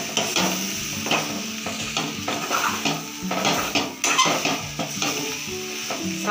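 A spoon stirs cooked kolmi greens in a pan, with repeated scraping and clinking strokes in an uneven rhythm over a faint sizzle, close and clear with no talking.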